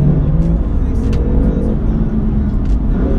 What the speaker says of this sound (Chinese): 我们的二档再来做一个加速